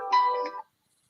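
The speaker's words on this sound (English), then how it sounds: "We'll listen to Steve's phone." A mobile phone ringtone plays alone in a short electronic melodic burst, fairly close and clear, stopping abruptly after about half a second.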